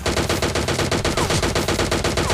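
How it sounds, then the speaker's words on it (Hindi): Rapid automatic gunfire from PUBG Mobile Lite, a loud, steady stream of shots in an even rhythm that fills the whole stretch without pause and with no talking over it. "उसने गोली चला दी"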